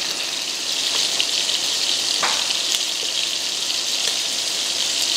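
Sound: beef searing in Dutch oven

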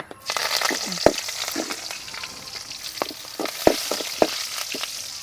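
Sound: curry leaves frying in oil

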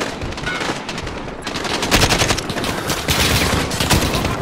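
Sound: gunfire from AK-47 rifles in video game Call of Duty Modern Warfare

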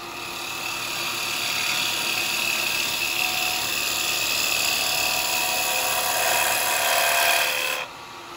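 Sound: chisel cutting wet eucalyptus on a wood lathe

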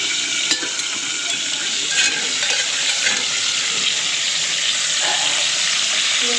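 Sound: flat beans frying in a pan

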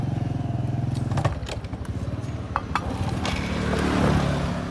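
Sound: Suzuki Fu motorcycle engine being started

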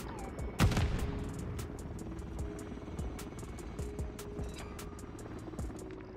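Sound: gunfire in Call of Duty Modern Warfare 3 video game

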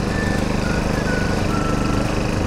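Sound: hammer knife mower cutting grass

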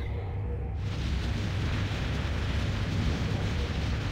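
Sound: explosion in a video game

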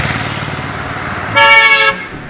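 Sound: traffic noise with car horns honking

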